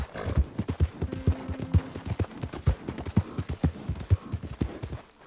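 Horse hooves gallop in Red Dead Redemption 2, a steady, rapid clip-clop rhythm of close, punchy hoofbeats running throughout, with faint tonal ambience behind.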